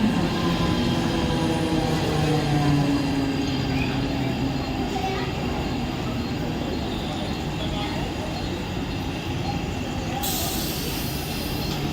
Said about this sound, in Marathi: 7:10 की कर्जत जाने वाली तेज लोकल थोड़े ही समय में प्लेटफॉर्म क्रमांक 3 पर आ रही है